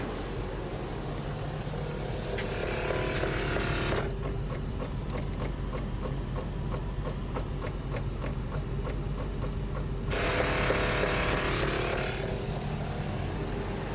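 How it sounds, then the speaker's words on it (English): A BMW E53 air suspension compressor pump with a faulty system runs as a steady mechanical whir and clatter, with a quieter stretch in the middle before the pump noise swells again near the end; no one speaks. "the pump continues to pump every several seconds"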